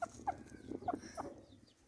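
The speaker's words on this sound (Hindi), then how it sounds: "ये रही फ्रेंडली मुर्गी" A pet hen clucks in a few short, close calls spaced through the moment, with no talking.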